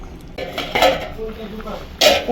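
Cooked taro, a big batch of arum root curry, is tipped out of a cooking pot with scraping clatter and a couple of sharper metal knocks, close by, under a low voice in the background.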